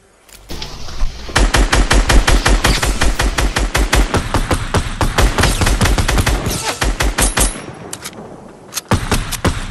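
Rapid automatic gunfire in a Fortnite Battle Royale squads match on PS4, dense bursts of shots rattling loudly and almost continuously for several seconds before tapering into a few scattered final shots.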